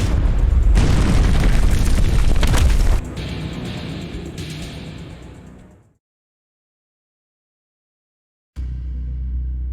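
A heavy explosion in the Terminator: Resistance video game erupts as a loud roaring blast, then trails off into a fading rumble and falls silent before a low ambient hum returns.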